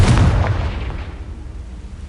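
A Confringo spell blasts in a video game, one loud, close explosive boom with a heavy low rumble that decays over about two seconds.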